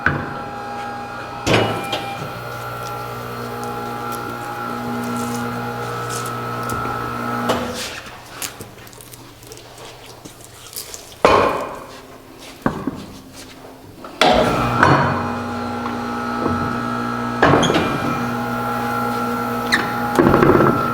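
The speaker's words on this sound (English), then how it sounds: "So now we're going to remove the tire from the tire machine." A tire being worked off a tire changer machine in an automotive shop, with bursts of mechanical whirring, clunks and rubber squeaks separated by short pauses, loud and close, with no talking.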